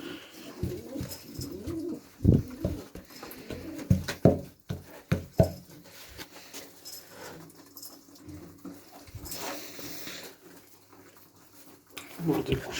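Pet pigeons coo while being fed, with soft throaty calls and some pecking and patter. A person talks over them throughout.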